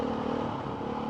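A Beta 390 RR trail motorcycle ridden on a green lane, its engine a steady, close droning hum with faint clatter over about a second, no voices.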